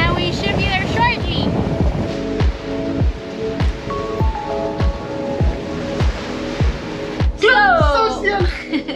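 A sailboat motoring into a headwind at sea gives a steady engine drone with regular thudding pulses and wind roar; voices are heard briefly at the start and near the end.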